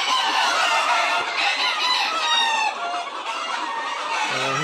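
A dense flock of chickens on a farm clucks and squawks loudly and nonstop beside a chicken shelter, with crowing mixed into the close, busy chatter.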